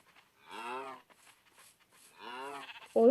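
Two drawn-out sheep bleats in Minecraft, each about a second long with a wavering tone, separated by a short pause, followed by a sharp louder burst at the end.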